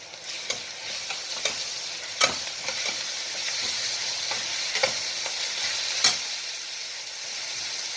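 Garlic fries with onions in a pan, giving a constant soft sizzle with sharp clicks of stirring at intervals, close and moderately quiet, with no talk.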